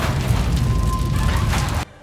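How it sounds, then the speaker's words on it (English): A vehicle exploding in the action film General Commander: a loud, sustained boom and roar that cuts off abruptly near the end. "until the vehicle spontaneously f***ing explodes"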